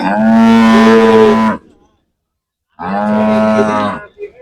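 A Friesian dairy cow with four teeth, calved forty days earlier, at a cattle market, gives two long, loud, close moos separated by a short silence, with no talk over them.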